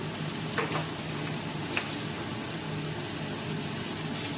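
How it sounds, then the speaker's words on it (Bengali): Turmeric and dried chili sauté in hot oil in a pan, producing an even, steady sizzle with a few faint scraping taps. "এবার কষিয়ে দেবো"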